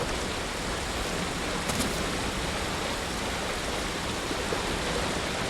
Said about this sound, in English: Look at the top of the waterfall.